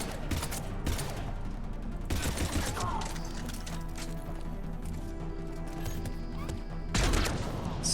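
Bursts of rapid gunfire in Mass Effect 3 crackle in loud clusters, one near the start, another around two seconds and a final burst near the end, with quieter combat noise between.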